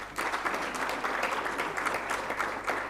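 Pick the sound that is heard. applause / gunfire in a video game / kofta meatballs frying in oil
applause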